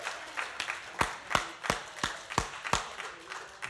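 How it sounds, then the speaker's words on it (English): An audience at a library author event with a Lego master builder gives a round of applause, heard as a string of distinct, spaced claps over a light wash of crowd noise, fairly quiet and somewhat distant. "Let's give him a nice round of applause."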